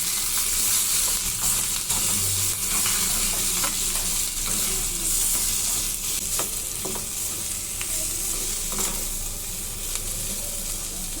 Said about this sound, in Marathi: आता ही भाजी आपण व्यवस्थित मिक्स करणार आहोत